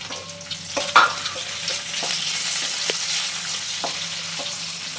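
Tomato and green chilli fry in a pan for a potato gravy, a bright steady sizzle with a sharp clatter near the start and a few light stirring taps afterward, nobody talking.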